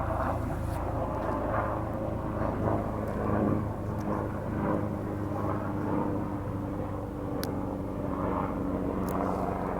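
Steady, droning engine noise from an aircraft or helicopter passing overhead, continuous and moderately loud for the whole stretch, with no voices over it.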